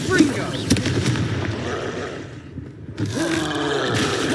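Combat in Hogwarts Legacy as the Confringo blasting spell fires: loud, close explosive bangs and crackling impacts over rumbling battle noise, with voices shouting amid the clash and a renewed burst after a short lull.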